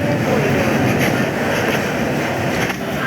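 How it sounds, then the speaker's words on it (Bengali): Dhauli Express passenger train running at speed from Shalimar past Kolaghat, heard from on board as a loud, steady rumble with rail clatter and rushing wind, no talking. "আমরা ধৌলি এক্সপ্রেসে যাচ্ছি।"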